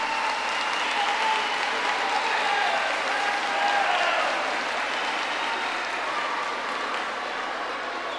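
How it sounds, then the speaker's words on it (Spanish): Audience applause at a 2023 election credentials ceremony in Cotopaxi: sustained, dense clapping from a crowd that swells slightly midway and carries on steadily throughout. "Un aplauso para nuestra prefecta."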